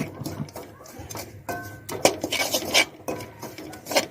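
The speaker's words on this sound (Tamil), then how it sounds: "இந்த இருக்கிற நெய்லியே அப்படியே லைட்டாக வறுத்துக்கிட்டு" Rusk pieces roasting in ghee in a pan are turned with a metal spoon, giving irregular clanks, scrapes and knocks against the pan, close and moderately loud, with a faint murmur of voice in places.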